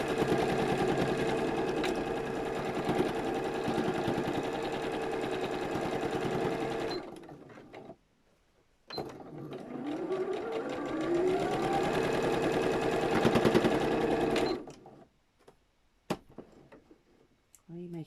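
A sewing machine stitches a zipped top bag, whirring loudly and steadily at close range, pausing briefly midway before running again, then stopping with a few faint clicks and handling sounds.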